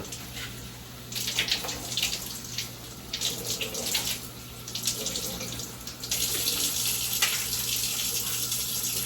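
Tap water runs into a kitchen sink while strawberries are rinsed under it, a close, steady gushing and splashing stream that swells louder partway through, with no voices.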